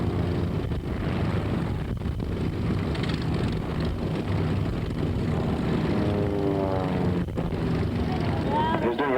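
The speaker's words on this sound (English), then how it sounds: "the pit specials getting close to their farewell loop as they go up over the top and separate" Propeller-driven Pitts Special aerobatic biplanes roar continuously through a farewell loop at the 1983 RAAF Point Cook air show, a broad droning engine noise under a public-address commentator's voice, with a rising whine near the end.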